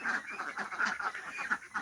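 A flock of about 25 laying ducks on a farm keeps up a steady run of honking quacks, several birds overlapping close by with no talk over them.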